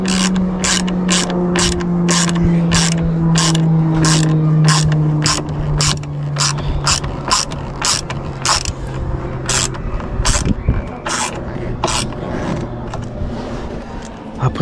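A ratchet tightens the screws on a replacement door mirror of an Opel Astra H, giving a long run of fast clicking with a low mechanical drone underneath, close and steady, while a voice talks in the background.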